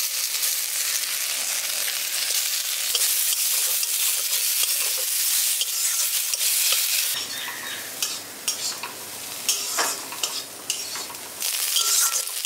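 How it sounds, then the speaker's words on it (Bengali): Boiled, diced potatoes fry with onion, ginger and garlic in a pan, giving a continuous close sizzle broken by repeated stirring scrapes and light clinks of a spoon against the pan. "আলুটাকেও আমি এখানে পেঁয়াজ আদা রসুনের সঙ্গে হালকা করে একটু ভেজে নিয়েছি"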